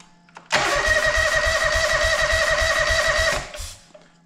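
A John Deere 425 garden tractor engine cranks over loud and close, the starter churning in a fast, even rhythm for about three seconds without catching, then stopping.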